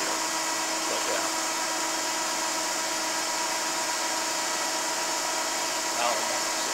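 GMN MPS-R600 24-inch vertical spindle rotary surface grinder feeding automatically, a steady continuous whine and hum at even loudness, with a person talking over it.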